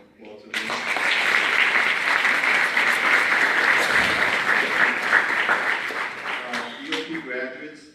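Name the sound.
applause at graduation ceremony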